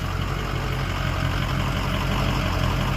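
A GMC Sonoma minitruck engine idles with a steady, throbbing low rumble, close and constant, with no talk.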